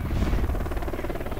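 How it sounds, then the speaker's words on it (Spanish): A helicopter in the video game Dark Sector drones steadily with a dense rotor thrum, loud and continuous, with no talk over it. "Ah, hay un helicóptero."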